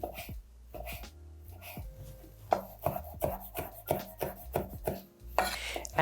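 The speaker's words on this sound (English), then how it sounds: "So drag my knife tip through, turn it sideways, and then rocker chopper." A knife diced through a fresh tomato on a cutting board with rocking chop strokes, giving a series of close, crisp taps and thuds in an uneven rhythm with no talking.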